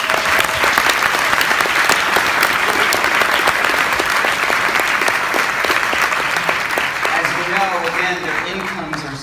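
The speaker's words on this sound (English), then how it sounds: "let's give them a round of applause already." Dense, sustained audience applause fills a panel discussion hall, loud and even throughout before easing slightly near the end, with a voice faintly speaking underneath at the close.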